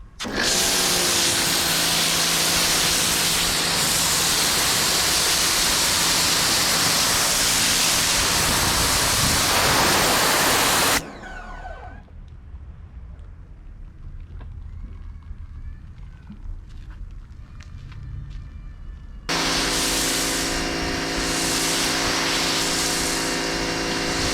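Water spray rinsing thick car wash foam off a car, a loud steady broadband hiss that cuts out partway, leaves a quieter stretch of dripping and faint knocks, then resumes at full strength.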